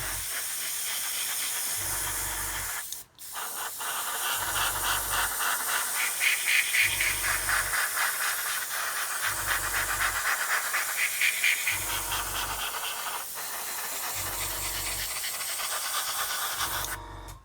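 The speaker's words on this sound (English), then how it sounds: "you can see how lightly I'm spraying that." Airbrush or spray can laying down very light coats of paint on a model kit, a steady hiss in repeated long bursts with brief pauses between, close and fairly loud, with no talking.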